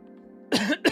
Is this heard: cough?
yes